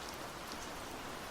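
Steady rain falls in an even, dense hiss with soft patter on a surface, constant and unbroken, no voices present.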